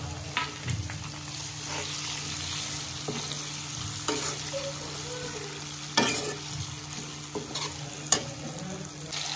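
Chopped tomato fries in a pan with a continuous sizzle, broken by repeated spoon stirs and scrapes against the pan at irregular intervals, close and fairly loud, with no talking.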